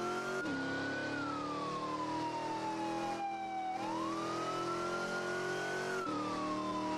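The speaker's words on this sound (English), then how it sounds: "Sirens on." A police car siren in the video game Emergency Response: Liberty County wails loud and close during a pursuit, sweeping slowly up and down in pitch over a low engine hum.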